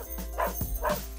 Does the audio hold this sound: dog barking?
yes